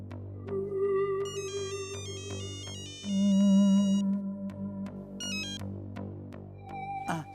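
A phone rings during a call, its electronic ringtone melody playing loud and near in repeated bursts of tones over about seven seconds, with no talk.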